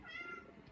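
A house cat meows once indoors, a short, faint, slightly drawn-out cry standing alone with no talk over it.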